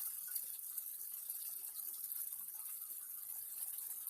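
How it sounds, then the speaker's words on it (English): Film developer concentrate is poured slowly from a bottle cap into a graduated cylinder, a faint, steady hissy trickle of liquid held at an even level. "I'm going to slowly just start to pour this into my graduated cylinder"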